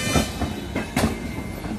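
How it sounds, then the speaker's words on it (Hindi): A train rolls across a railway diamond crossing near Nagpur Junction, the wheels giving loud, close, rhythmic clickety-clack thumps over the crossing joints amid a continuous rumble. "एक और ट्रेन जा रहा है इसके पीछे से"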